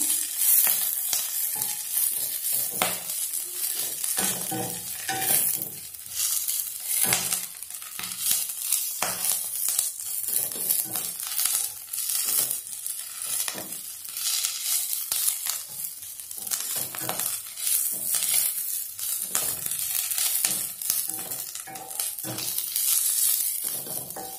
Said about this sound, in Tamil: இனியும் போட்டு நல்லா வதக்கிடலாம் லோ ஃப்ளேம்லேயே வச்சுருங்க இல்லைன்னா இலையெல்லாம் கருகிடும்